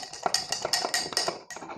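A spoon stirs a mixture of 20 grams of gelatin and 60 ml of water, giving a run of close, crisp clinks and taps against the container, roughly steady strokes with a short pause near the end.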